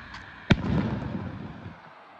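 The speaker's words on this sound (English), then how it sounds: "Another firework." One sharp firework blast cracks out nearby, followed by a rumbling decay that fades over about a second, with no talk around it.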